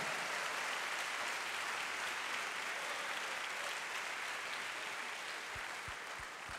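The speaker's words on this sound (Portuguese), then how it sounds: "Mostra a sua fé aí através do aplauso, vai." A church congregation applauds steadily during a Sunday worship service, a dense, even wash of clapping that fills the whole stretch at moderate distance, with a few low thumps near the end.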